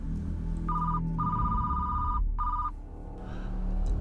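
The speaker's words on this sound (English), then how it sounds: "we hear the phone on King's desk start to ring" A telephone rings on a desk, a steady electronic trill in three bursts with short gaps, fairly loud and close over a low background hum, with no talking.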